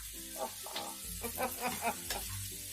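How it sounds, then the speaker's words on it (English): Steady sizzling and crackling of meat frying in a pan for Cuban vaca frita, close by, with faint clinks of stirring over the hiss. "There's that sizzle we like."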